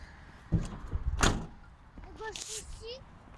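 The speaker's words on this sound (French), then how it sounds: "fermez la porte quand même" A van door pulled shut, one heavy thud and rattle of the closing door close by, followed by a short mechanical whir with speech heard around it.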